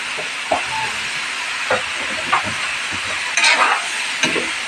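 Sautéed vegetables with eggplant sizzling in a pan, with a steady frying hiss and occasional scraping stirs of a utensil against the pan surface.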